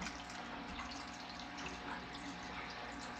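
Water trickles steadily through a primed siphon hose drawn from a Daphnia tank, a faint, continuous liquid flow with no pauses, heard up close and alone.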